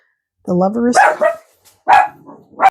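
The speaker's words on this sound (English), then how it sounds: "Sorry about my dog, as usual." A dog gives a few sharp barks close by, just after a short burst of speech, with brief gaps between the barks.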